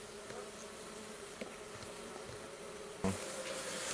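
Steady droning buzz of many honey bees close by, continuous throughout with a faint thump near the end.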